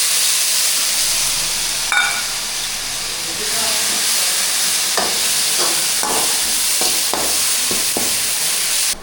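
Ginger garlic paste and spices, including cinnamon, sizzle in very hot oil on a home stove, giving a loud, steady hiss with scattered clinks of stirring throughout.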